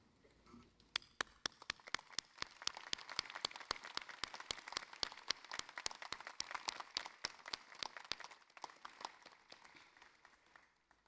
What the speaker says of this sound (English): I would like to ask all graduates to stand and turn towards the audience and applaud your supporters